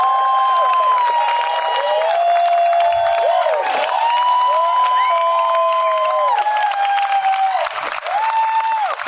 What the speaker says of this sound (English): Ladies and gentlemen, put your hands together